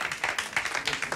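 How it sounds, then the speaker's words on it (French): Audience applause at a Paris fashion show as a model presents Paco Rabanne's latest creation, a metal dress; brief bursts of clapping rise and fall in quick pulses, moderately quiet and slightly distant, with faint voices underneath. "Applaudissements."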